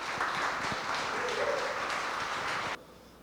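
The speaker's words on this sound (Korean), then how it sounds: "여러분 큰 박수로 맞아주십시오." An audience claps together at a book concert to welcome a poet, a steady, full wash of hand claps that stops abruptly near the end, leaving a quiet room.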